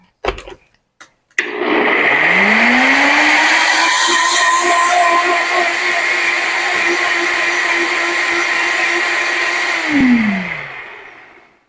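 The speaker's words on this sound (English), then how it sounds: "Okay, so all you do is put that in a blender, and we're going to mix it up." A blender whirs up stir fry sauce, starting with a few clicks before the motor spins up to a loud, steady high-pitched whine that runs about eight seconds, then winds down and stops.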